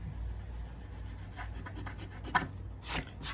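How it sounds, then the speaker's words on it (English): A pencil line being erased on a wooden cabinet part, a few short quiet scrubbing rubs near the close, isolated with no talk. "It's always a good idea to erase your screw-ups like this so you don't accidentally cut."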